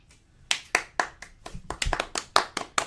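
A few people clapping hands, a loose, uneven run of about a dozen sharp claps, close and fairly crisp, starting after a short quiet lead-in.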